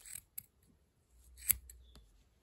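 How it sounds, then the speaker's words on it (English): Scissors snip through the yarn loops of a crochet pom-pom, giving a few short, crisp close-up cuts, with one sharper snip standing out among quieter clicks and no talking. "then what you do is you cut the loops on the pom-poms"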